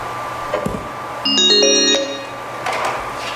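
An outgoing phone call rings over a speakerphone in a legislative hearing room: a single electronic ringing tone lasting under a second, fairly clear against a steady room hum, with no one talking over it.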